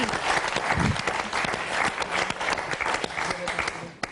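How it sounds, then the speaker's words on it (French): Lively studio applause for contestants on a French game show, dense clapping throughout that tails off at the end, with a voice briefly audible over it. "on applaudit Marie-Christine"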